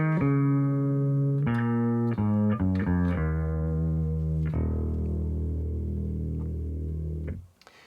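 Bass guitar recorded through a Line 6 Helix and Apogee interface plays sustained, slightly driven notes with a few quick note changes, then a long held tone that cuts off at the end.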